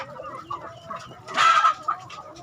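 Chickens clucking close by while being fed water hyacinth as alternative feed, with several overlapping short clucks and one louder, brief burst of squawking in the middle.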